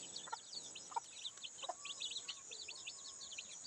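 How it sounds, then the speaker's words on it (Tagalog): Small chicks on a farm give soft, high peeping calls in quick, scattered bursts, faint and nearby, with no talking over them. "Yung maliliit na manok."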